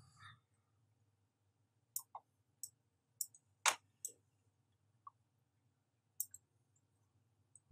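A computer mouse clicks sharply and sparsely while rotating a 3D axe asset in texturing software, single and double clicks spread over several seconds against a quiet low hum, with no talking.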